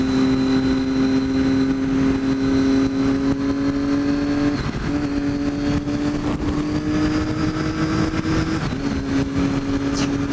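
Steady engine drone from a motorcycle riding along and filtering between cars in traffic, a sustained loud hum with slight pitch shifts as the throttle changes, with no talking.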